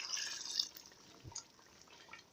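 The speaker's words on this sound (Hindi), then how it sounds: "अब हम इसमें आधा कप पानी डालेंगे" Half a cup of water is poured into a pan of chicken changezi gravy, giving a soft, brief splash and trickle. It is quiet and close, with no talking.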